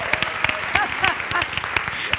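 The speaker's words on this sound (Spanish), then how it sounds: "Un aplauso para la madre, que está aquí." An audience applauds at an interview event, dense loud clapping carrying on throughout with a few sharper individual claps and some voices mixed faintly underneath.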